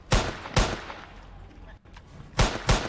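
Gunfire aimed at a pig in the Roblox game Hungry Piggy, with four sharp, loud shots in two quick pairs and a steady game background between them.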